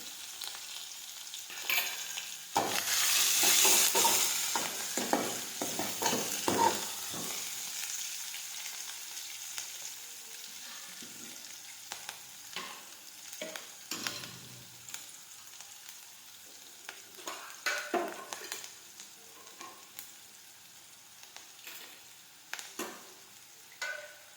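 Curry leaves, cinnamon and cloves hitting hot oil for a tempered kadhi, a loud burst of sizzling and spattering that settles into quieter crackles with occasional stirring clinks.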